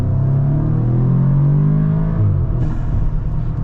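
An Audi S3 fitted with an IE Stage 1 intake revs up, holding a loud, close, deep engine drone that climbs, then drops back and settles to a rumble, with no voices.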